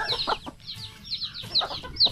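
Several chickens cluck and chatter nearby in quick overlapping calls, with no talk over them.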